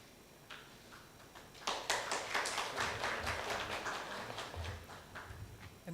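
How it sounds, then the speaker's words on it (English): Quiet conference audience applause breaking out after a brief pause, a moderate patter of hand claps that swells and holds steady, heard from a distance in a large room. "Applause."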